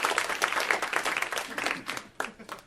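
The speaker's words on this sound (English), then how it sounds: "So round of applause for my girlfriend" A stand-up comedy audience gives a short burst of applause, dense clapping that swells and then thins into scattered claps, fairly quiet and from a distance.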